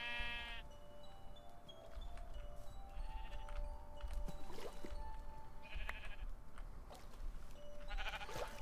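Sheep in the video game AstroNOTS bleating several times, short wavering cries scattered across a quiet low ambient bed, some nearer and some farther.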